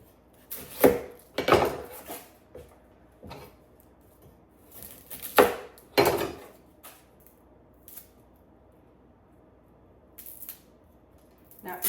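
A knife slicing an onion on a wooden board for a gluten-free meal prep, a series of crisp irregular cuts and taps, some in quick pairs, close and fairly loud with quiet gaps between.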